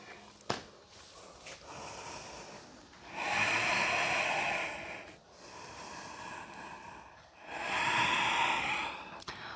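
Breathing during a yoga session held in downward-facing dog pose: two long, audible breaths with airy, hissing exhalations, close and moderately loud, separated by quieter pauses and a brief snort-like sniff at the start.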